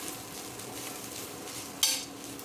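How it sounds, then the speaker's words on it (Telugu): Finely grated fresh coconut frying in a hot tempering in a pan, a steady low sizzle with faint stirring, and one sharp utensil scrape against the pan near the end, no talking. "సన్నగా తరిమినాం కాబట్టి ఎంత కొబ్బరి వేసినా కూడా మనం పోపులో బాగా వేగిపోతుంది"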